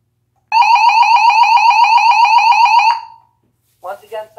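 A Federal Signal SelecTone 50D siren plays its European fire tone, a loud, rapidly pulsing warble that runs about two and a half seconds, cuts off and rings down, followed by brief talking.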